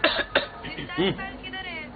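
A couple of short, sharp coughs near the start from a person with a cough and fever at a doctor's, followed by the person speaking briefly.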